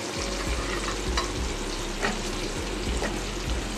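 Potatoes sizzle in hot oil alongside pointed gourd, a continuous close crackling fry with faint stirring touches throughout and no talking.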